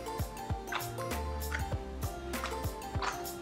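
A shower soap dispenser's pump button is pressed repeatedly to prime it, giving a run of sharp plastic clicks and ticks at a quick, uneven rhythm, close by with a faint hum underneath.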